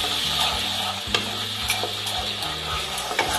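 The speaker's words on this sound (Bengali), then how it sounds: "তারপরে একটু জল দিয়ে মশলাটা কষে নেব 5 থেকে 10 মিনিট।" Spice paste for a tangra fish and cauliflower curry, loosened with a splash of water, is stir-fried in a pan, giving a steady close sizzle with occasional scraping clicks from a spatula and no talking.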